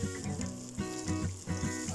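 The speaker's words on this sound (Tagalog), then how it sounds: "Higisin natin mga lods ang ulo ng kuhol sa margarine" Snail heads sautéing in margarine for kuhol sisig, a faint, close sizzle with soft rhythmic stirring scrapes and no talk.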